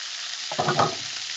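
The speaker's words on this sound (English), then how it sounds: "your oil is hot enough to sizzle the garlic, but not really to burn it" Garlic and shrimp drop into hot oil, and a sudden loud crackling sizzle rises over a steady frying hiss that continues alone, close up.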